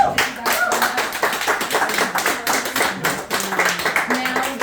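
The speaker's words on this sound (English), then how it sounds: "Let's give them a round of applause." Scattered audience applause after a presentation at a meeting, a smaller group clapping in uneven, distinct claps that rise and fall, with some talking mixed in.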